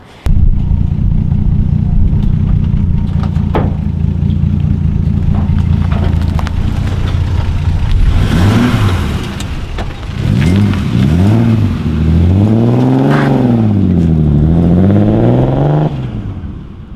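Turbocharged BMW E36 M3 engine on a dyno, a loud steady idle drone that breaks into repeated throttle blips with rising and falling revs toward the end, close and unaccompanied by talk.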